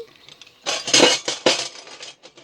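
Knives and dishes clink and clatter in a few sharp bursts as they are set into a dish-drying rack, close and alone.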